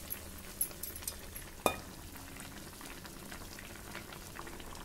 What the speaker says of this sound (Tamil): அதனால் நமக்கு 2 நிமிஷம் குழம்பு கொதிக்கட்டும்.